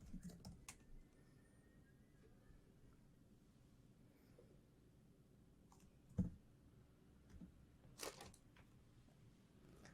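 Keys tapped on a computer keyboard while entering a terminal command, soft quick clicks at close range over a quiet room hum, with a couple of sharper strikes standing out.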